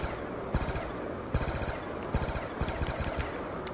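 Rapid automatic gunfire in Black Ops 2 Zombies, a loud burst of rattling shots broken by short pauses as the weapon is reloaded, with several repeated volleys close up and no talking.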